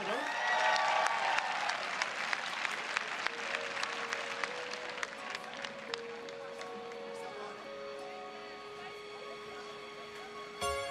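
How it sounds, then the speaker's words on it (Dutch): Loud applause with cheering from a theatre audience for the cast of Shrek the Musical at a live season opening, strongest at the start, then fading as a musical tone rises underneath. "Geef ze een warm applaus, de cast van Shrek the Musical!"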